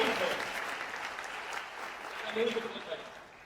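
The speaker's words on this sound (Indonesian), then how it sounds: "Kasih tepuk tangan kepada Tuhan." A crowd claps steadily in a continuous wash of applause, with faint voices mixed in.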